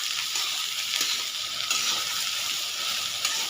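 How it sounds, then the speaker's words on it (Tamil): Okra and onions sauté in a pan over a low flame, giving a steady, even sizzle and hiss that runs without pause from start to finish, with no voices. "இந்த அடுப்பை சிம்மில் வச்சுட்டு வதக்கணும்"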